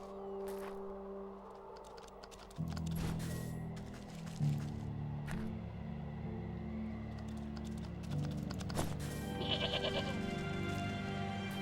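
Brain goats bleat in the video game Wytchwood, giving repeated short bleats over a steady, soft game soundscape with hoof-like clip-clop accents.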